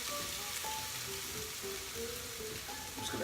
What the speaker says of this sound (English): So I'm just going to let the onions, peppers and the brown pepper cook into the fish.